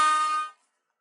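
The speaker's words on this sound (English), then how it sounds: "I gotta give an air horn for this one" A single loud air horn blast, harsh and brassy, holds for about half a second and then cuts off into silence.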